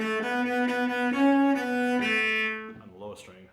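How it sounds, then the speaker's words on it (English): A cello bowed on its highest string plays a few sustained, bright, singing notes close up with no talk, then the tone fades into soft trailing noise. "And then the cello, which on its highest string sounds like this."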